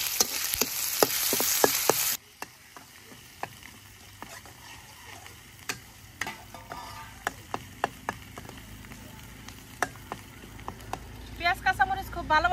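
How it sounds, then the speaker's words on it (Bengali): Onion and garlic fry in a pan with a steady crackling sizzle, after a loud hiss at the start, while a utensil taps and stirs in sharp, irregular clicks nearby; a person speaks briefly. "পেঁয়াজ রসুনটা ভালোভাবে ভেজে নিই"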